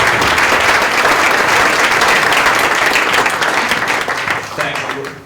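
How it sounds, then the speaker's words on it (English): A conference audience gives a panel a hearty round of applause, loud and full at first, then thinning and tapering off toward the end as the clapping dies down. "Guys, please give my panel a great round of applause."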